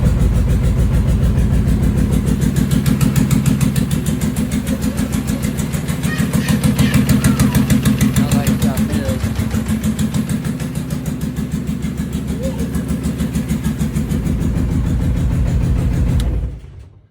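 A car engine nicknamed Evil Minion, which has a rear main seal leak, starts and then idles with a loud, steady throbbing pulse close by, cutting off sharply near the end.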